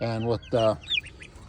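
A guard goose honks twice in loud, harsh nasal calls close by, followed by softer chirpy bird sounds, with a person speaking briefly over it.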